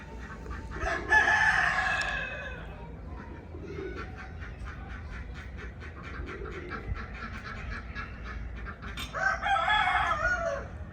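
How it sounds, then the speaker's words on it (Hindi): Close rooster crows ring out at the start and end, with hens clucking and chattering in between at a moderate volume. "मुर्गियों को छोड़ लूँ क्योंकि बहुत ज़्यादा शोर कर रही हैं"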